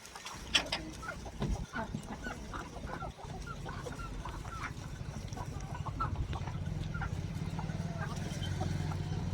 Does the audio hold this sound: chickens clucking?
yes